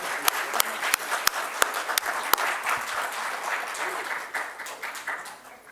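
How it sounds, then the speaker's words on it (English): A symposium audience applauds the speakers with brisk, crowded clapping in a hall, a few sharp claps standing out early before the applause gradually thins and fades. "Let us give a big hand of applause to all the speakers."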